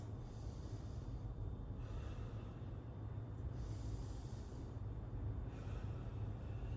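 Slow, steady breaths during a midday yoga session, soft and close, with gentle swells of inhale and exhale repeating over a low constant room hum and no talking.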